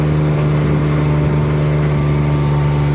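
A loaded vehicle pulls away at a renovation site, its engine a steady loud hum with a strong low drone and a faint rev, continuous for a few seconds with no voices.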